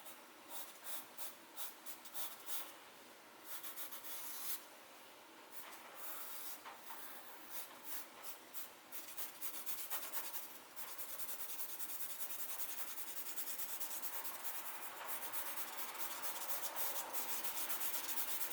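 A charcoal stick scratches and rubs across paper up close, first in short rhythmic strokes and then in a long continuous shading drag, with no voices.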